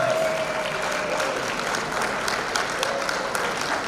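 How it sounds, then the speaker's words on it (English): A school awards-ceremony audience applauds and cheers for a St. Peter High School student recipient, loud sustained clapping filling the room throughout with no pause. "if we can keep the noise down, I know you want to cheer"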